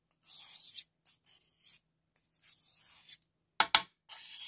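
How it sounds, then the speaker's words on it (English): Watercolour paint being scraped off a glass muller, several short raspy scraping strokes separated by silence, close and fairly quiet. "So scrape all of the paint off your muller."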